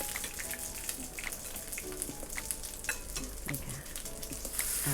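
Steady crackling sizzle of shrimp frying in hot oil in a pan, with scattered pops and spits throughout, close and continuous.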